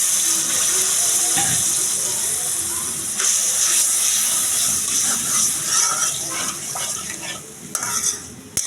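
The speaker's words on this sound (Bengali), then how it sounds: "এবার আমি দিয়ে দেবো আরেকটু পানি।" More water goes into a simmering pot of curry with turmeric and bay leaves. It gives a steady hissing, bubbling wash that carries on throughout, with scattered stirring clinks and a few sharper knocks toward the end.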